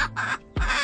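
A hen squawks loudly while laying an egg, giving two short clucking bursts and then a louder, harsher cry, all close and alone.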